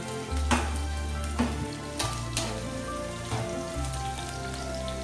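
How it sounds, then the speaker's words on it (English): Onions and capsicum frying in warm oil in a pan give a steady, close crackling sizzle that runs through the whole stretch, with a few brief clatters of stirring and no voices. "when the oil was warm, I added in it onions and capsicum"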